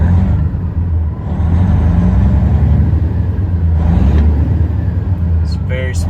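A 2015 Freightliner Coronado pre-emission glider kit truck engine idles at operating temperature with a steady, deep diesel rumble that holds loud and even throughout, with brief higher-pitched noise near the end.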